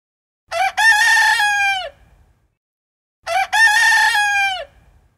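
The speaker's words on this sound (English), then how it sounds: "Rooster." Rooster crowing from an animal sound app game, a loud, close cock-a-doodle-doo sounding twice, each crow a strong sustained harmonic call ending in a drop, separated by a short silence.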